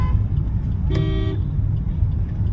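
Steady road traffic rumbles at Bhiwandi junction, and a single car horn toots clearly for about half a second midway through the constant engine noise.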